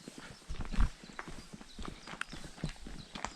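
Horse hooves clip-clop at a steady walking pace on a disused railway path, fairly close, with a few sharper hoof strikes standing out over faint outdoor background noise.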